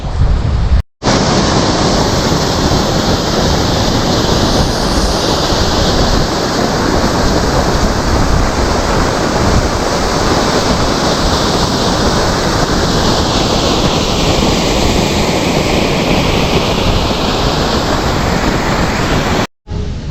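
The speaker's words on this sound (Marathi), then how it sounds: "आवाज पण येतोय बघा हे बघा नरमादी धबधब्याचा पाण्याचा फ्लो फार कमी आहे" A steady broad rush of water running down the Naramadi waterfall at Naldurg Fort, low in flow, filling the scene as a loud, even roar without voices.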